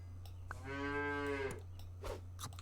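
A single cartoonish cow moo sounds from the Super Auto Pets game, a clear drawn-out call over a low steady hum, with a few soft clicks around it.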